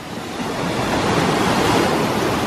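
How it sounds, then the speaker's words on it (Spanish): A steady, loud roar of falling water at the Triberg waterfall in the Black Forest, broadband and continuous, swelling slightly and holding without pause. "supongo que por el ruido ya lo habréis deducido, aquí sí está la cascada de verdad."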